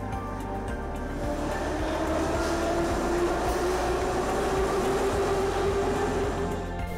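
A Baku Metro subway train stands at the platform with a steady, loud, low rumble and a humming motor tone that holds throughout, with no voices on top.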